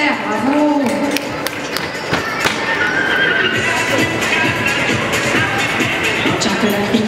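At an indoor horse show, a pony whinnies loudly near the start while hooves clop and thud across the arena, with a voice speaking over the commotion and crowd murmur.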